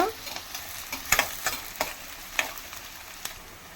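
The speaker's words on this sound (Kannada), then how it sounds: "ಈರುಳ್ಳಿ ಬ್ರೌನ್ ಕಲರ್ ಆಗಿ ಬೇಯಬೇಕು" Sliced onions fry in hot oil until browned for chicken sukka, a continuous soft sizzle broken by several sharp scraping stirs of a spoon against the pan, close and without any talk.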